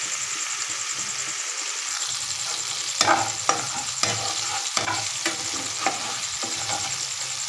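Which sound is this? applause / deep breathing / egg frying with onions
egg frying with onions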